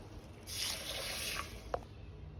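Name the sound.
washing soaked lentils (dal) in water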